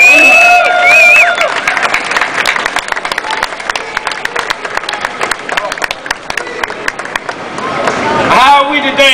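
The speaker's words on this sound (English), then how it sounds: "let's give him a round of applause." Applause from a crowd at an outdoor Wall Street bailout protest greets the next speaker, a sustained patter of many hands with cheers and shouts, loud and close, voices rising over it near the end.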